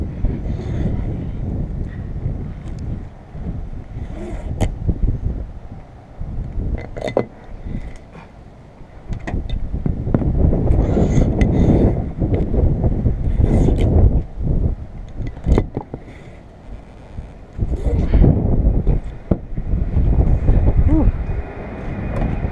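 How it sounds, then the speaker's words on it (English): Wind blowing outdoors around a 2015 Dodge Journey during a windshield replacement, heard as loud gusty rumbling buffeting against the microphone, rising and falling in surges with occasional faint clinks. "Now the wind changed that direction."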